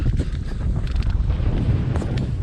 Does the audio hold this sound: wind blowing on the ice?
yes